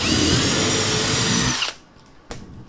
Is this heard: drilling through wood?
yes